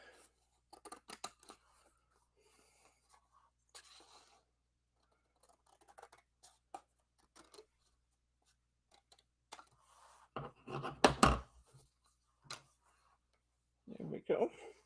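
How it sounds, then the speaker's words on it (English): Scissors snip off small corner edges of card stock for a Christmas card, sparse close cuts scattered through the quiet, with a denser burst of snipping near the end. "I still see some little corner edges I'm going to trim off"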